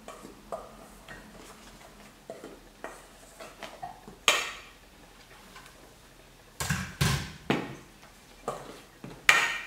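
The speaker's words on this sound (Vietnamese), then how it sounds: "Và chúng ta trộn đều cái phần bột này lên." Tapioca starch and potato starch are stirred together in a bowl, giving soft scraping and a series of sharp clinks and taps of a utensil against the bowl, irregular and close, with louder knocks toward the end.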